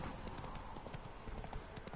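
A horse trotting in The Witcher 3 game gives a quick, rhythmic clip-clop of hooves, fairly quiet and steady across two seconds, with faint background game sound.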